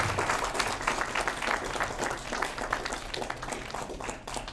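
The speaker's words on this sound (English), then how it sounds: "A round of applause to all of you." Clapping from parents and guests at an international school's Year 13 graduation ceremony, a moderate, somewhat uneven patter of hands that carries on steadily, heard from a little distance.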